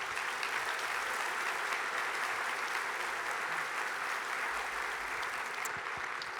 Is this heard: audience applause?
yes